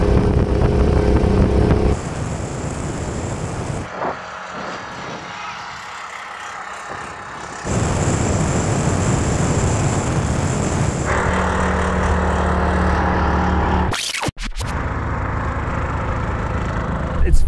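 A three-wheeler revs hard through a drag race, its engine droning loud and steady in long pulls that break off at gear changes, with a brief sharp dropout near the end and faint talk in places.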